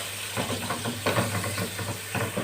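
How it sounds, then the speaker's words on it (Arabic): Onions, ordinary and red, sizzle in hot ghee as they are stirred, a steady close hiss with bursts of scraping and stirring noise and a low hum beneath. "وابدا انزل بيهم في السمن وهو سخن، وابدا اقلب كده"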